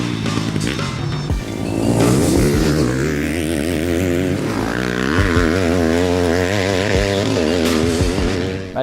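A 2020 Yamaha 250 four-stroke enduro motorcycle with an Akrapovic exhaust, its engine revving hard and rising in pitch, dropping back and climbing again in repeated bursts, loud and close.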